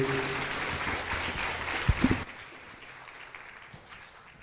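An audience applauds panelists at a Bitcoin developer conference stage, steady clapping for about two seconds before it quickly thins out into a quiet room with a few scattered sounds.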